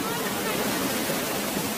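Chooral waterfall in Kerala roars as a steady, dense wash of rushing water, loud and continuous throughout with no break.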